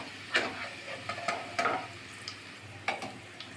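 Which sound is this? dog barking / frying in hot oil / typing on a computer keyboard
frying in hot oil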